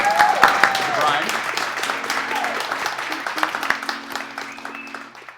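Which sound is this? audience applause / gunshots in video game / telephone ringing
audience applause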